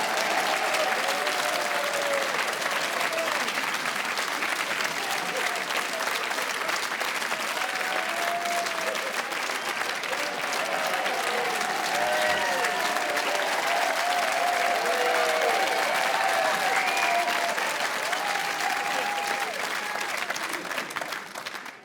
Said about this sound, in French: vous allez voir comme ils vont m'applaudir dès que je vais rentrer en scène